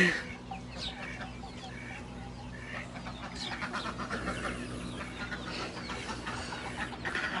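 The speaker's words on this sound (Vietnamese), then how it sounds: "Bầy gà này nó bự ghê không?" Large flock of chickens clucking outdoors, a dense continuous murmur of overlapping clucks and calls at moderate distance over steady background hum.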